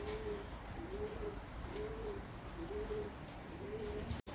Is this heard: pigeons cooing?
yes